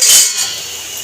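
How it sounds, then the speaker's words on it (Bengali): An empty metal karahi wok is set down on a stove, giving one loud bright clank at the start that rings briefly and fades. "খালি কড়াই বসিয়ে"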